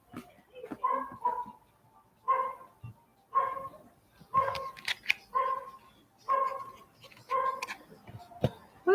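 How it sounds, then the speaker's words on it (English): A dog barks repeatedly in a steady series of sharp, mid-pitched barks, fairly close and clear, with short gaps between them over a quiet background. "Why is that dog barking?"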